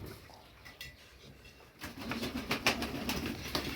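Pigeons coo softly while drinking water on the ground, a quiet murmur that grows louder and busier partway through, with repeated soft calls close by.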